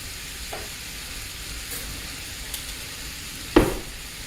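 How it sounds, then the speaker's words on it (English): Canned refried beans stirred into a hot skillet for a cheesy taco dish give a faint, steady sizzle, ending with a single sharp clack of a utensil against the pan. "you're going to stir this in and let it heat through"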